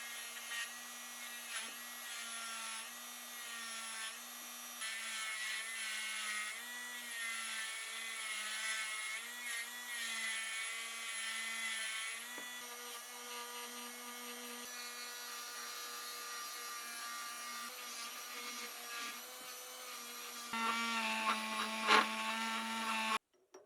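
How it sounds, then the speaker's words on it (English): Metal lathe taking a light skimming cut on the outside diameter of a hardened plane spiral from a restored rusty lathe chuck, a steady mechanical whine with layered tonal hum that runs continuously, shifting slightly near the end before stopping. "skim the outside diameter of the plane spiral with a light cut on the lathe"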